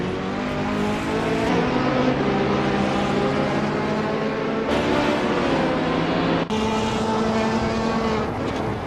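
A BMW M3 race car engine in the Assetto Corsa racing game on the Brooklands circuit, a loud steady harmonic drone with shifting pitch and brief gear-change breaks, continuous and close throughout.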